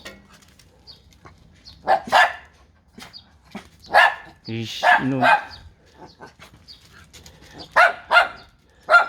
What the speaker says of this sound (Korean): 왜 이렇게 짖어?